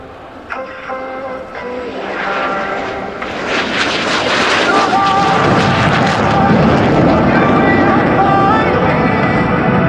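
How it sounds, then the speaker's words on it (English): MiG-17PF jet taking off with its afterburner at an evening airshow in London, the engine roar building from a distant whine to a loud, sustained broadband blast. "the Mig-17PF with its very unusual afterburner, which you're about to see as it takes off here in just a moment"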